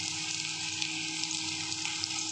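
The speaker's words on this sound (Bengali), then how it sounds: "মাছ ভাজা হচ্ছে, গ্যাসের ফ্লেমটা আমি মিডিয়াম করে দিলাম।" Pieces of fish frying in hot oil over a medium gas flame, a steady soft sizzle that continues evenly throughout at low level with no voices.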